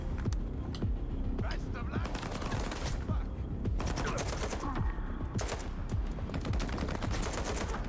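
Enemy gunfire in the STALKER 2 video game, rapid overlapping bursts and single cracks of automatic weapons firing repeatedly at close and mid range, with a player's voice talking over the shooting.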